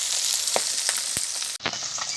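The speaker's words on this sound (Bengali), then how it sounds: "আমি মাছটা একটু কড়া করে ভাজি" Rui fish frying crisp in hot oil in a pan, a dense steady sizzle with scattered sharp crackles and pops, close and loud, with no voices.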